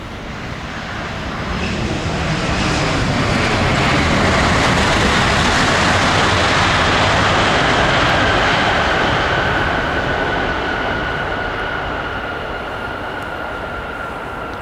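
Vietnam Airlines' 100th aircraft, an Airbus A350, lands on runway 07L with a loud, sustained jet roar that swells to a peak and then fades slowly as it passes close overhead.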